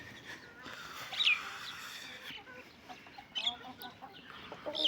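A rooster in a poultry yard in Andijan lets out several short clucks and squawks at a moderate distance, with faint background noise and quiet bird chirps between them.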